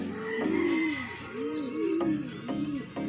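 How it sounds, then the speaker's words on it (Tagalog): Soft, repeated cooing calls from racing pigeons arriving during a training race, several rounded phrases in a row, close by with a faint background hum. "Marami akong nakikita dumadaan na dito mga kalapatids."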